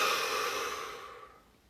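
A single slow, deep breath taken during a guided relaxation exercise, close and soft, trailing off into quiet over under two seconds, with no talking.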